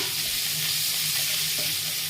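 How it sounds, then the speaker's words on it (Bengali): Ginger and green chili paste fries in hot oil, a dense, even hiss close up and steady for the whole moment, with no voices. "তেলেতে দিয়ে দিচ্ছি আদা লঙ্কা বাটা"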